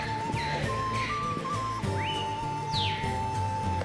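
Birds sing outdoors in Guatemala, with repeated rising and falling chirps and whistles over a soft, steady background hum, fairly faint and spread across the few seconds.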